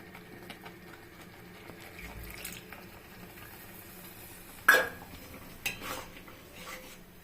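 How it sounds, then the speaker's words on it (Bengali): Masala with cashews is stirred in a pan, a spoon scraping and clinking against the metal in scattered strokes with one sharp knock, fairly quiet overall. "এখন খুব নাড়তে হবে, নাহলে লেগে যাবে"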